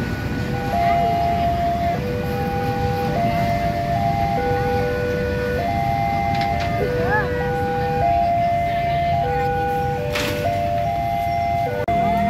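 A train rumbles steadily past a level crossing near Yogyakarta station while the crossing's two-tone warning bell alternates loudly and continuously above it, with a brief horn-like blast late on.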